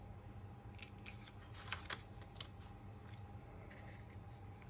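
Scissors snip through gold leaf metal foil in a few quick, faint clicks and crisp cuts over a steady background hum, with no talking.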